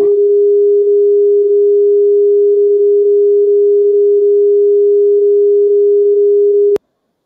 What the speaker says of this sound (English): Let's have a look at a high pitch, so when the speaker vibrates a bit faster.